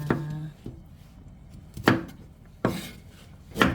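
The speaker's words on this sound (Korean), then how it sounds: "피망도 이렇게 음, 잘잘하게 썰어줍니다" Bell pepper being finely chopped with a knife on a board: four sharp, distinct knife strikes spaced about a second apart, close and clear, with no talking.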